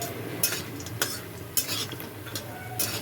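Bori, sun-dried lentil dumplings, frying in hot mustard oil in a wok: a steady close sizzle broken by several sharp clanks and scrapes of a spatula stirring against the metal.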